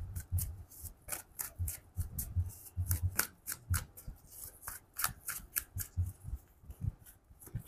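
Tarot cards being shuffled and handled during a reading, giving a quick run of crisp snapping riffles and rubbing card sounds close by, with no voices.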